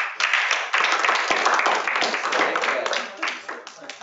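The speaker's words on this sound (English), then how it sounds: "give yourselves a clap." Church congregation clapping and applauding, a dense burst of many hands that starts abruptly and tapers off over a few seconds, close and loud indoors.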